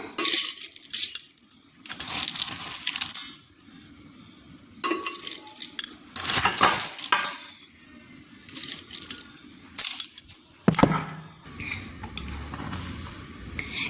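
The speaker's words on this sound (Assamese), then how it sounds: "এতিয়া এইখিনি মই কুকাৰতে বনাওঁ" Black rice goes into a pressure cooker, heard as scattered rattling pours and metallic clatters of the pot and utensils, several sharp bursts with quieter handling between.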